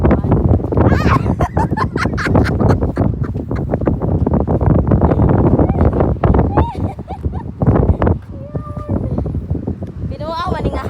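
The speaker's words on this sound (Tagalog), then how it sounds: "Makadisgrasya nga hangin." Strong wind buffets the microphone in continuous loud gusts, with people talking over it throughout.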